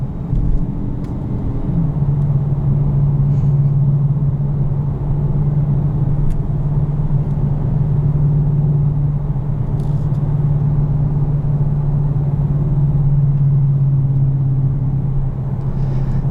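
A 2020 Dodge Challenger R/T Shaker 50th Anniversary muscle car's engine rumbles steadily from inside the cabin, a loud, deep and continuous drone that holds for over fifteen seconds with slight swells and no voices.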